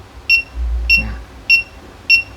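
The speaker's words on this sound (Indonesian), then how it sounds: "Jadi pada saat dia mendeteksi ada nyala api seperti ini, dia akan memberikan suatu alarm peringatan." Flame sensor alarm buzzer set off by a lit candle, four short sharp electronic beeps evenly spaced about half a second apart, loud and close over a faint low rumble.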